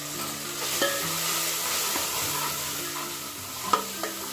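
Spice masala with red chili frying in a pan for whole black masoor dal, a steady close sizzle with occasional spoon knocks and scrapes against the pan, no voices.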